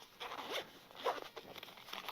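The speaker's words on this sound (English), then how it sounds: "Zips up to a package that small." A zipper runs shut around the small carrying case of Axil GS Extreme folding ear protection, giving two quick close-range zipping strokes with a short pause between them.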